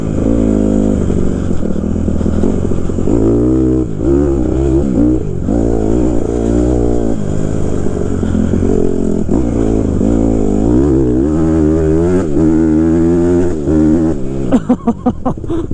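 A 2014 Honda CRF150R dirt bike engine revs hard and continuously on a test ride, pitch climbing and dropping through gear changes, loud and close with buzzy, rough exhaust tone throughout.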